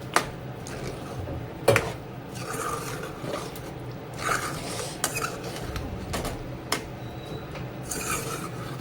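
Cubed paneer being stirred into matar paneer curry in a pan, a steady rasping scrape of spoon against metal with several sharper knocks, close and continuous without talk.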